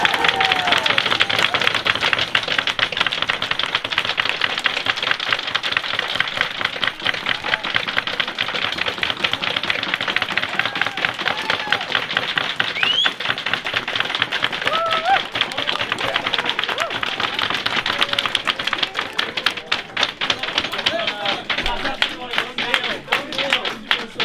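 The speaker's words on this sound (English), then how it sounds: "Give them a huge round of applause, ladies and gents, Jordan and Rebecca." A wedding crowd applauds newlyweds Jordan and Rebecca Gardner in 2017, dense sustained clapping from many guests filling the room for over twenty seconds, steady and loud, with occasional cheers and voices mixed in.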